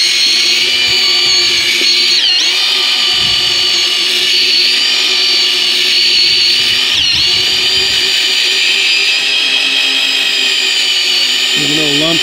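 A power mixer churns a lumpy material during a DIY bathroom remodel, producing a loud, steady high-pitched whine that runs without a break and dips briefly a few times.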